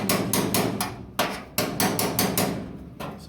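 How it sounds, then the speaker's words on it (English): Steel chisel hammered to split rusty sheet-metal floorboards on an early 1966-1977 Bronco: a rapid series of sharp, ringing metallic strikes in uneven bursts, close and loud, with no talking. "we're just using our chisel just like the way we have been to kind of separate the two pieces of sheet metal"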